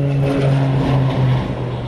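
Firefighting aircraft such as Canadair water bombers and Trackers fly over a wildfire in the Gard, a loud, steady propeller engine drone with a sustained hum that swells slightly and holds throughout.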